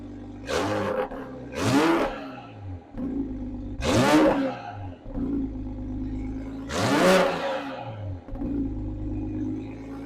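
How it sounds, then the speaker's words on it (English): A Mk5 Toyota Supra with a stock exhaust and catless downpipe revs hard several times in separate bursts, each roar rising and falling back to a steady, rumbling idle in between. "let's see what this stock setup sounds like"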